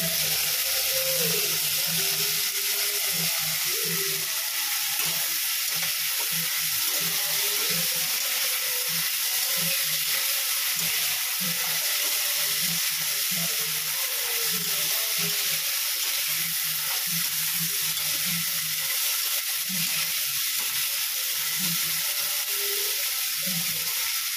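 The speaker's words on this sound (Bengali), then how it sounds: "আর একটু ভাজা ভাজা হবে" Food fries in a pan with a little salt added, giving a steady, loud sizzle close by. Faint stirring scrapes recur throughout, with a soft tonal murmur far in the background.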